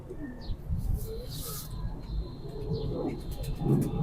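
Pigeons of the green-coloured Sabz Chena breed coo softly close by, a few low murmuring calls over a background of faint handling and room noise.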